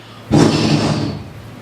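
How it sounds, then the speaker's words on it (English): A single loud slam hits sharply, then its broad rumble and ring decay over about a second. "how it hears a door slam"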